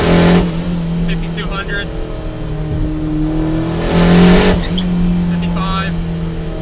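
A 1994 turbocharged Mazda Miata engine is held under throttle around 4,000 RPM while misfiring, giving a loud, steady drone that surges twice. A person speaks briefly over it.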